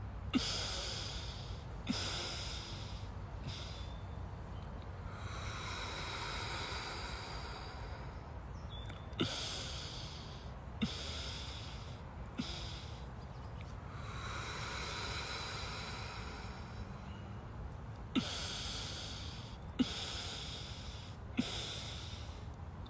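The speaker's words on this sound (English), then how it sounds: "Give yourself permission to breathe deeper." Deep, slow breaths during a mindful breathwork meditation, long airy inhales and exhales repeating in a steady rhythm, close and fairly quiet, with brief sharp sniffs between cycles.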